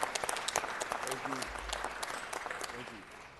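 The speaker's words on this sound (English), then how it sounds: "Let's give a round of applause for Emmy-winning performer Glenn Turman." Audience applause at a city council meeting honoring an Emmy-winning performer, a dense steady patter of many hands clapping throughout, with some voices mixed in.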